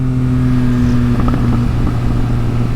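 A 2022 Yamaha XSR900 motorcycle engine drives hard out of a corner, its steady, loud, droning note holding close and continuous with a slight surge partway through.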